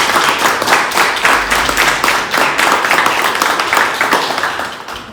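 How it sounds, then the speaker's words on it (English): Wedding reception guests break into sustained, loud applause: a dense wash of many hands clapping steadily, close by, for about five seconds before it starts to fade. "I think they deserve a round of applause."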